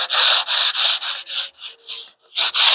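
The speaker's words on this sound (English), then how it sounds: "going to sand on my window boxes" Sandpaper rubbed by hand over wooden window boxes, a steady series of close, loud rasping strokes, each about a third of a second, with a brief pause before the strokes resume.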